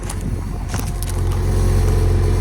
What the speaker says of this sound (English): Your little exhaust, little rattle there.